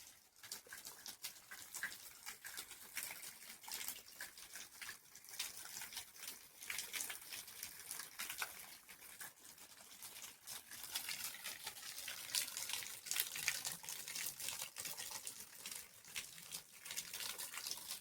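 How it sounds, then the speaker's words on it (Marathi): A small mountain spring trickles beside a trekking trail near Kalsubai, giving a faint, steady flow of water with soft splashy flickers and no voices. "तुम्ही बघू शकता इथं पाण्याचा छोटासा झरा चालू आहे."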